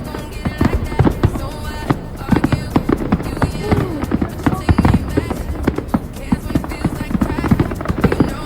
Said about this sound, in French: Là on va aller regarder les feux d'artifice.